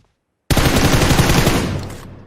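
Rapid automatic gunfire in a first-person shooter game erupts suddenly after half a second of silence, a dense loud burst of shots that continues for about a second and a half before cutting off.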